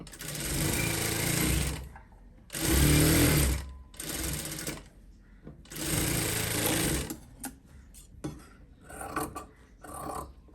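A sewing machine stitching fabric runs in loud close bursts, three long whirring stretches separated by short pauses, followed by a few shorter start-and-stop runs.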